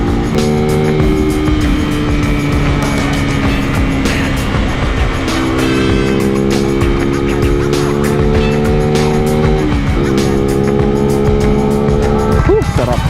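A Suzuki Raider 150 motorcycle engine, freshly refreshed with new coolant, runs with a steady droning hum whose pitch shifts up and down as it revs, loud and close.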